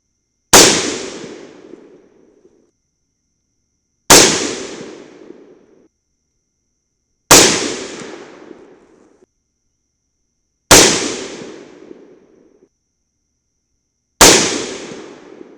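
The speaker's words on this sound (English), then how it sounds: "I have popped off my suppressor and we're going to shoot these last 20 shots in loud mode." Five unsuppressed .300 BLK rifle shots firing 125-grain Sierra Tipped MatchKing loads, each a sharp, loud crack with a decaying echo, spaced about three to four seconds apart, with silence between shots.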